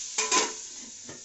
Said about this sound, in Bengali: তো বন্ধুরা আমার আলুটা ভাজা হয়ে গেছে